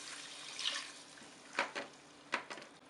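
A glass of coconut milk poured into a cooking pan holding tomato, mint, coriander and green chillies for coconut milk rice. The liquid sloshes faintly and up close, with a few soft splashes in a quiet room.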